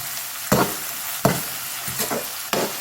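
Onions and tomato sauté in a pan for parla dry fish thokku, a loud, close sizzle broken by four sharp scraping stirs spaced about a second apart.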